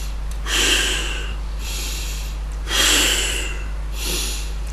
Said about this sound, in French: N'oubliez pas de souffler.